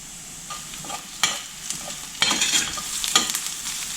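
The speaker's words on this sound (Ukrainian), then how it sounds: "І відправляю смажити цибульку." Onion sizzles in a hot pan while a utensil stirs and scrapes it, with bursts of louder frying as the pieces are moved around.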